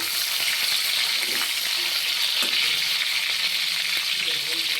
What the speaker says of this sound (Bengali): এবার নুন হলুদে মেখে রাখা পটলগুলো আমি ভেজে নিব।